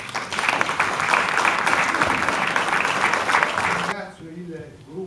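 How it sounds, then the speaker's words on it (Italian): Audience applause at a local police patron saint celebration in Novi Ligure, Italy, a dense steady clapping that fills the room for about four seconds and then stops abruptly, followed by quieter room sound and faint voices. "Quindi anche in questo caso direi che meritano un applauso."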